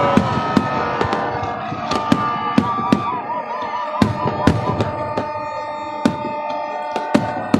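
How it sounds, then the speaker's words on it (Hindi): Repeated sharp firework bangs and crackles at Minar-e-Pakistan during Pakistan's 75th Independence Day celebrations, some near and loud, others more distant, with whistling rockets rising between the blasts. "बड़ी खूबसूरती और नफासत के साथ आतिशबाजी हो रही है"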